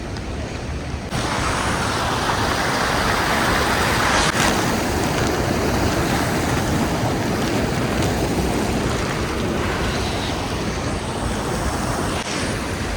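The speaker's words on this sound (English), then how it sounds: "That was the river." A mountain river rushes steadily and loudly along an Annapurna trekking route, its broadband roar continuous and close throughout with occasional wind buffeting the microphone.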